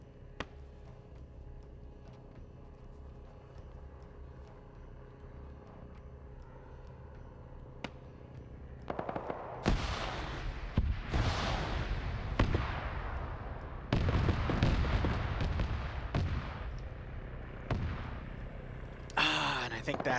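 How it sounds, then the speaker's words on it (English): Automatic cannon fire from a BTR armored vehicle in a military video game, a burst of loud booming shots starting about halfway through and repeating in clusters, with distant rumbling between volleys over low background noise. "You still have that BTR firing in."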